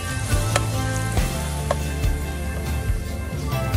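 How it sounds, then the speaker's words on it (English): Onions sauté in a pan for Nigerian jollof rice, giving a steady sizzle over a low hum, broken by a few sharp utensil clicks; no one talks. "saute onions for 3 minutes"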